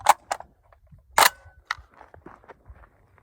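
A Citadel Boss 25 semi-automatic 12 gauge shotgun fires high brass rounds, giving a few sharp, clipped reports in quick succession, with quieter clatter and handling noise between them.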